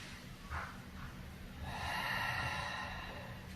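During a Pilates theraband roll-up, a short sharp nasal inhale is followed by a longer, audible breathy exhale through the mouth, close to the microphone with no talking.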